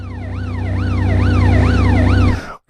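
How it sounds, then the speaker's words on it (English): Police car siren in the PS1 racing game Test Drive 4, a loud, close wailing siren sweeping up and down in steady cycles over an engine drone, then cutting off abruptly. "There's a police car in the pile-up as well."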